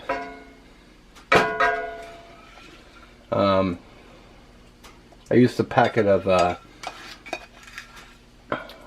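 Ground beef seasoned with taco seasoning and mushrooms is stirred in a cast iron pan, with a few metal utensil scrapes and clinks and a faint sizzle between stretches of close speech.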